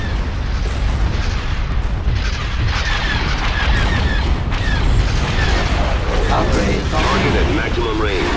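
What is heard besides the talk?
starship barrage firing in the video game Star Wars: Empire at War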